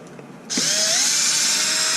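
A power driver fitted with a small socket bit whirs on as it backs out screws on a Mojave 6s RC car, a short tap followed by a steady high whine that rises in pitch and holds close by.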